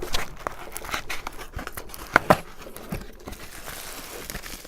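Packing tape rips free from a well-taped cardboard mail parcel being unboxed, giving scattered crinkles and tearing bursts with a couple of sharp louder rips midway, close by and without talk.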